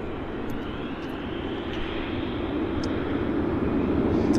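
WestJet jet airliner at Vancouver Airport, a steady broad engine roar that holds at moderate distance and slowly swells louder over a few seconds, with no voices.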